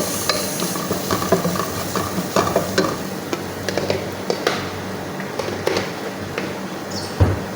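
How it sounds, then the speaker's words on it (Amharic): Spices such as turmeric sizzling in a pan for an Ethiopian fish stew, with a steady frying crackle, scattered clinks and scraping strokes throughout, close by. "ከዛ ይሄንን ጥብስ እናደርጋለን"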